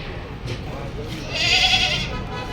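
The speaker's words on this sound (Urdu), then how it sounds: "یہاں پر بہت ہی زیادہ بکرے موجود ہیں" Goats bleat at an Eid al-Adha livestock market in Madina, Saudi Arabia, amid a busy crowd murmur, with one louder drawn-out bleat rising midway and someone talking throughout.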